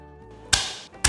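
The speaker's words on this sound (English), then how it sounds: "Cut the carrots up into strips" A kitchen knife chops through carrots for a shrimp stir fry, making two sharp, close cuts against a board with a brief scraping slide between them.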